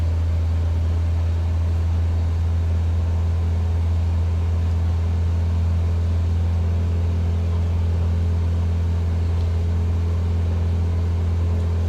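A Grumman AA-5 light aircraft climbs just after liftoff in a flight simulator, its engine a steady, loud droning hum with a strong low tone holding constant throughout.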